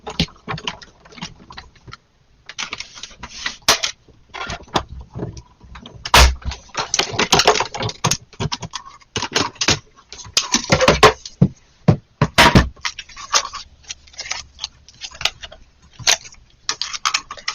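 Die-cutting machine cutting through paper, a sequence of irregular mechanical clicks, ratcheting clatters and knocks close by, with brief pauses between bursts and no talking.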